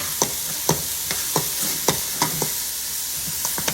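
Mushrooms or peppers cooking in a pan for homemade spaghetti sauce, with a steady faint sizzle broken by repeated sharp scraping stirs of a utensil, about ten over a few seconds, close and with no talking.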